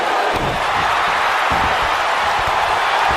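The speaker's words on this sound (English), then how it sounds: "Listen to this crowd count the next one in." A roaring arena crowd in the WWE 2K19 wrestling video game fills the soundscape with a dense, loud, continuous cheer and a few thumping impacts beneath.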